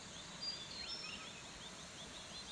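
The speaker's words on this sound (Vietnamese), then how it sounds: "Nghe tiếng chim kêu rất là vui." Birds calling in a rocky forest valley on a cool, misty morning, with faint chirps and whistles scattered through a quiet, steady background and no voices.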